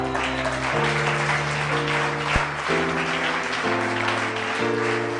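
A church congregation claps in praise of the Lord, a dense, continuous wash of applause under sustained held tones, loud and steady throughout with no distinct speech.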